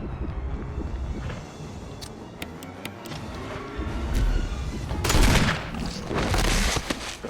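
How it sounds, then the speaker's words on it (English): Magnum gunshots in the Resident Evil HD Remake video game: a few heavy, booming shots later in the clip, following quieter game ambience, with no talking. "Right, 5 shots through the Magnum."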